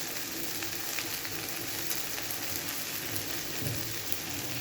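Vermicelli upma fries in a pan as salt goes in, making a soft, even sizzle like light rain on a surface, faint and steady throughout.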